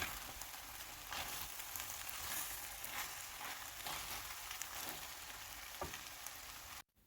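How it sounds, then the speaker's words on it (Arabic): Fajita samosa filling of chicken frying in a pan: a quiet, continuous sizzle and crackle with a few stirring scrapes, ending abruptly, with no voices. "بقليها لحتى تستوي نص استواء، وبعدين برجع بضيف الدجاج يلي أنا كنت مستويته من قبل وبقلبهم مع بعض"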